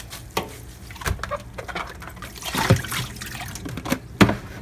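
Cold water runs over noodles being rinsed in a kitchen, an uneven trickle and splash with a few louder sloshes and knocks, close by and moderately quiet.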